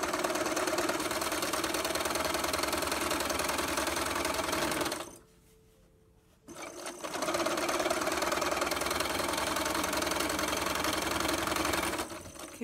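Sewing machine stitching quilt pieces for a snail's trail block together, a loud steady mechanical whir running for several seconds, pausing abruptly for about a second, then resuming at the same even pace.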